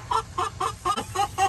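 A hen clucks close by in a steady run of about seven short, evenly spaced clucks.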